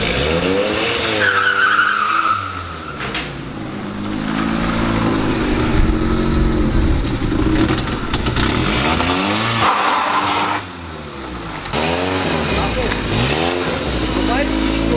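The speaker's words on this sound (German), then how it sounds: "Sobald ich nur ein bisschen Gas gebe, ja, dreht er sofort durch." VW Lupo 1.8T with a GT28 turbo spinning its wheels, engine revving while tires squeal and skid, loud and close, with someone talking over it.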